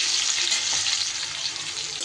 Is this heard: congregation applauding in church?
no